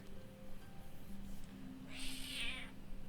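A cat meows once in World of Warcraft, a bright drawn-out call near the end that rises above quiet, steady game ambience.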